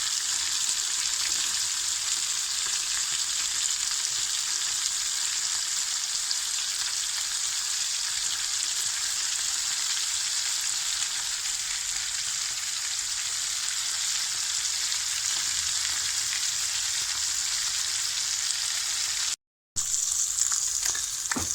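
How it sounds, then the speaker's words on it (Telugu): Fish pieces frying in hot oil, a dense, even hiss and crackle holding steady and close for a long stretch, broken only by a brief cut near the end. "నేనైతే చేప ముక్కలు ఫ్రై చేస్తున్నాను"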